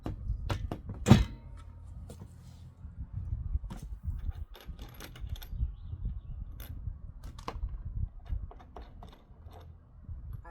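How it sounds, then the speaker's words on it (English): Socket wrench ratcheting while a Gorilla GCG12 garden cart is assembled, with scattered clicks, metallic clunks and small knocks of parts, quiet and close in a calm setting. "You need my socket wrench."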